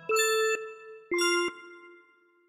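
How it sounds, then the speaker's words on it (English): Glockenspiel sample notes struck twice in a beat-making session, each a bright metallic ding with ringing overtones that rings out and then decays, close and clean with no voices. "Let's try this glockenspiel one."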